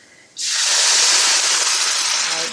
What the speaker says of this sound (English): I'm going to add a 28-ounce can or 794 grams can of very finely diced tomatoes